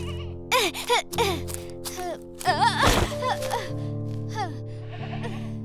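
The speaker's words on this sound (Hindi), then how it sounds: "जैसे ही वो बैठा, एक बकरी अचानक जंगल की ओर दौड़ने लगी।" A goat bleats several times up close, with loud, wavering cries coming in short bursts and a steady hum in the background.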